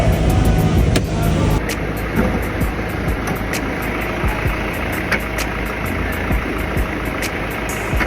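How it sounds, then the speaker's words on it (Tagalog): A Ford Everest Wildtrak diesel engine idles quietly with its bonnet open, a steady low rumble that holds close and even throughout, with a few light clicks over it and no one talking. "Kung mapapansin nyo, diesel engine siya, pero napakatahimik, no?"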